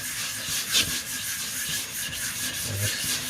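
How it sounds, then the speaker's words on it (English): A Nakiri knife grinds against a whetstone in a continuous, close, raspy rubbing of quick back-and-forth strokes that carries on without pause. "changing stones again, going to my Nakiri. Now I know the stone is most likely flat, so I'm just doing a quick one."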